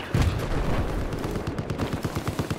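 Heavy gunfire from the video game Battlefield 4 keeps up a dense, loud rattle of rapid automatic shots and booming blasts that continues without a break.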